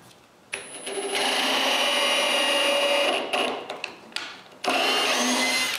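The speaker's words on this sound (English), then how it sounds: "I also screw 1 screw in the center of each long plank." Power drill driving metal screws into cedar planks for a patio table, with a close, loud motor whine in several bursts of varying length separated by brief pauses, ending in a final sustained run.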